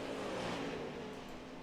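A 410 sprint race car accelerating on a dirt track during warm-up laps, a rising engine roar heard at a distance, steady and fairly loud throughout.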